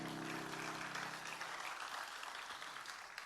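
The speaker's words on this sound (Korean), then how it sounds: "하나님께 영광의 박수 드릴까요?" A church congregation at a Korean Full Gospel service applauds in a sustained wash of clapping, loud and steady through the whole stretch, with a low sustained organ or keyboard tone underneath at the start that fades out.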